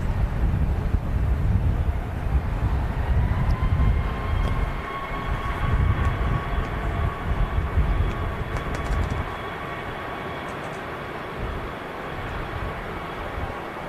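Air France A380 airliner arriving at Manchester Airport from Paris, heard as a broad, low rumbling roar with wind buffeting the microphone, steady for several seconds and then easing to a quieter hum.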